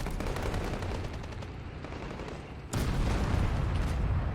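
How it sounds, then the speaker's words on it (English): Artillery and gunfire in a Russian campaign war game: rattling bursts of shots under a dull background roar, then a sudden louder surge of firing and rumbling that continues to the end. "Artillery destroying it like 400 meters away"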